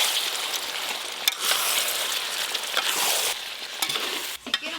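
Masala paste is stir-fried in a pan for chicken masala, giving a loud, dense sizzle broken by scraping stirring strokes and a few sharp knocks near the end.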